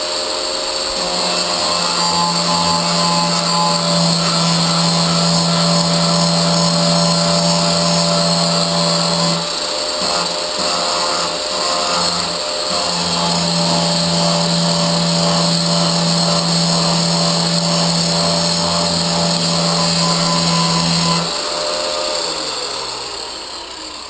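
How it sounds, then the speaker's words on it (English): An angle grinder cleaning up a weld with back-and-forth passes, a loud, steady high-pitched whine that dips briefly midway as the grinder is pulled back, then resumes and winds down at the end. "So let's clean this up with the grinder."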